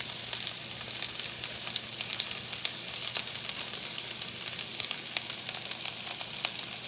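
Onions sizzle and fry in a pan for fajitas, giving a steady, fairly faint crackling hiss with small pops scattered through it and no talking.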